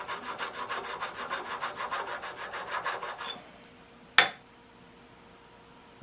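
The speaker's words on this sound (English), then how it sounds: "There are a few small burrs on this edge, which I'm going to take off with a stone." A sharpening stone rubs back and forth along the edge of a metal vise jaw stop in quick, even strokes for a few seconds, then stops, followed by a single sharp metallic clink and quiet.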